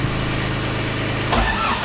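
An endurance race car is cranked over at the track late at night, a loud close, steady churning whir that shifts and rises near the end as the engine catches.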